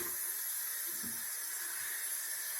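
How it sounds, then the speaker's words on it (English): Tap water runs steadily from a faucet for hand washing, a soft continuous hiss and splash at low level with no voices. "So first, you'll turn on the water for your hand washing."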